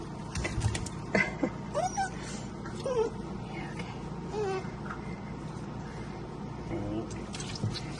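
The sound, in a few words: bath water draining while washing a puppy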